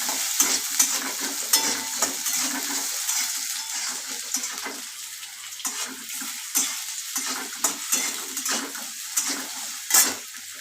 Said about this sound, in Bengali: আলুগুলো ভাজা করছি।